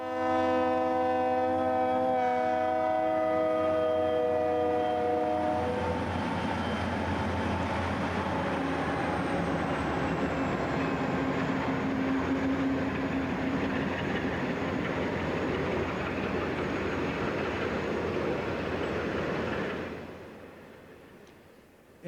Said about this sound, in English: UP's SM&L from Salem to North Little Rock slowly accelerates after being stopped by NLPI entering Messler Siding